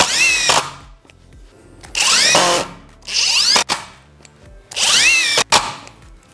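A Korean-made cordless impact driver runs at speed setting 2 with its special mode switched off, giving four loud close bursts of whirring and rattling hammering, each winding up and stopping, separated by short pauses.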